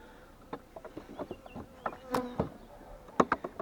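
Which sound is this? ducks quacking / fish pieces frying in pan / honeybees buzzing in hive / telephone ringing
honeybees buzzing in hive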